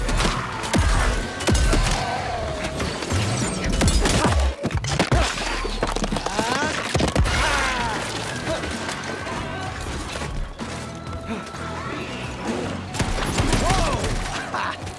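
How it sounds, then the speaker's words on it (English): Shotgun fire in Shadow Warrior 3, loud blasts mixed with clattering mechanical reload clicks and crashing impacts in a dense, chaotic combat soundscape. "That reason is a fully loaded shotgun."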